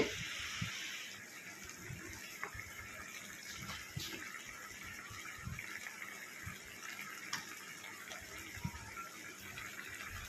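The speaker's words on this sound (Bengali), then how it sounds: "ঝোল ফুটে গেছে।" A mustard-poppy fish curry gravy bubbles steadily in a pan, a continuous close hiss of boiling liquid with scattered small pops and clicks throughout.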